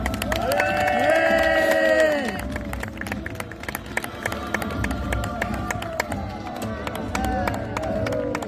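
A crowd at a French outdoor event cheers and claps, a loud burst of whoops and applause at the start that settles into scattered clapping with a few voices calling out.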